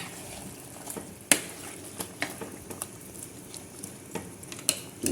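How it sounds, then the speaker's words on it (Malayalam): Chicken being stirred through thick biryani masala in a pan, with repeated soft scrapes and wet squelching taps at an uneven rhythm over a low sizzle, close up and without talking. "ഇത് നല്ലോണം ഇളക്കി വെക്കണം."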